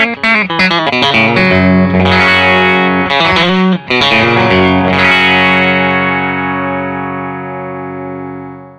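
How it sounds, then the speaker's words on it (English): A Telecaster electric guitar played through a ValveTrain 416 amp with a 1x12 open-back cabinet rings out in bright, twangy strummed chords and quick picked notes, closing on a long sustained chord that fades slowly. "So we're gonna dial up a little Tele tones here for you."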